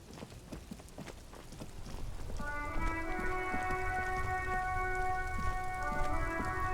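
Steady rain falls in the detective role-playing video game Disco Elysium, a dense even patter that soon has sustained musical tones layered over it.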